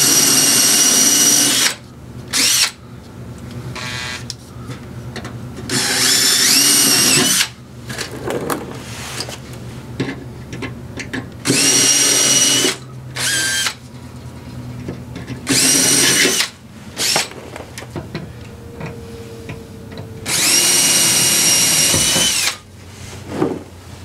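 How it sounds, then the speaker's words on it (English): Repeated bursts of a power drill biting into metal, drilling out spot welds on a Foxbody car body, each lasting a second or two, separated by short pauses; close and loud, no talking. "but I gotta drill these spot welds out."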